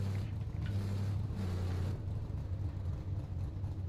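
A sprint car engine on the Eldora dirt oval in the iRacing sim drones steadily and low throughout, a constant racing-engine hum with no voices.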